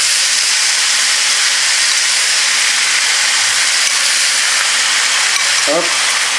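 A sauce of water, soy sauce, vinegar and fish sauce hits a hot pan for Thai pad see ew noodles, giving a loud, constant hissing sizzle that holds steady throughout, with a faint voice briefly near the end.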